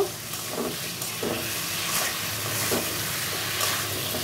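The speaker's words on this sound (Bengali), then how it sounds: "ডিমগুলো দিয়েও একটু কষিয়ে নিব।" Boiled eggs are stirred and sautéed in a pan for an egg kosha curry, with a soft, steady sizzle and occasional scraping stirs at close range and no talking.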